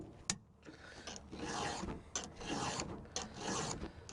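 A hand file rasps across a chainsaw chain's cutters in a few quick rhythmic strokes, close and moderately loud, with small metallic clicks between strokes and no voices.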